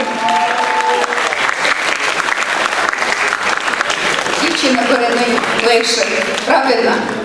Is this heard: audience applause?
yes